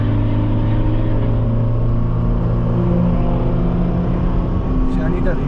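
A car runs fast on a race track at a first track day, its engine a loud, constant roaring drone close by throughout, with a person talking over it.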